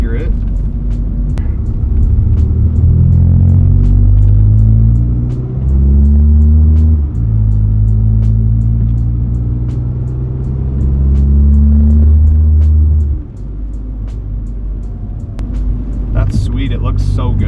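A VW MK6 GTD with an aftermarket turbo pulls hard on the road, its loud, close engine drone climbing through the gears in long rising sweeps, with brief dips at the shifts and a steady rumble underneath.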